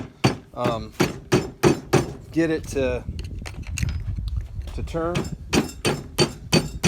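A rubber mallet repeatedly knocks a coin ring fitted on a piece of PVC pipe, making a rapid series of sharp, close knocks with uneven spacing while someone talks over and between them.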